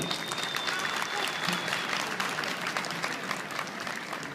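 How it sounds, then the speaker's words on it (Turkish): Audience applause at an outdoor Ramadan festival event in Keçiören, a steady, dense crowd clapping sustained throughout at moderate distance, with no talk over it. "bir alkış istiyorum sizden"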